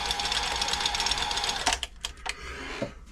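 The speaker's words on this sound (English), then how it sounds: "Stretch stitch is working, you can see by this lever going up and down here." A Toyota 2600 sewing machine runs a stretch stitch with a fast, steady mechanical chatter, then slows and stops into a few separate clicks and knocks near the end.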